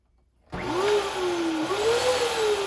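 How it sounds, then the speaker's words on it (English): A vacuum cleaner switches on abruptly after a moment of quiet and runs with a steady whine while vacuuming a kitchen, its motor pitch wavering slightly as it moves, close and alone. "let's go ahead and vacuum the kitchen now"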